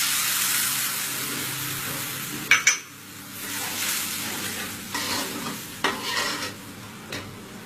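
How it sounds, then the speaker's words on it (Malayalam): Soaked kudampuli goes into a hot pan of oil for a Kerala fish curry, giving a steady frying sizzle broken by several sharp spitting bursts and stirring scrapes. "ഇനി നമുക്ക് ഇതിലോട്ട് നമ്മള് വെള്ളത്തിൽ കുതിർത്ത് വെച്ചിരിക്കുന്ന കൊടംപുളി ഇടും"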